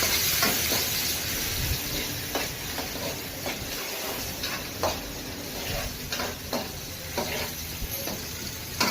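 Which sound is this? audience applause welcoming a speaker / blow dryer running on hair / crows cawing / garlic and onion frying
garlic and onion frying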